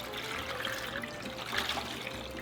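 Brine with salt, lemon, herbs, pepper and garlic poured over raw chicken, a soft close trickle and splash of liquid that runs on for a couple of seconds, quiet and unbroken, with no talk.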